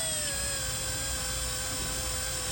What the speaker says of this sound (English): And just very, very carefully start drilling a new hole.